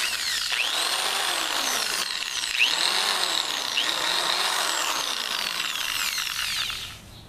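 A cheap Harbor Freight Drill Master power drill ratchets its chuck tight in a continuous run of clicking and whirring, close and fairly loud, winding down near the end.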